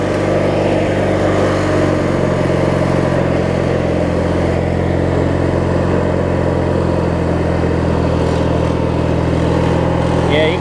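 A Craftsman riding mower with a Briggs & Stratton opposed-twin engine runs with its governor out of adjustment. The loud, steady engine drone swells and sags slightly as the speed surges up and down, heard close and without speech.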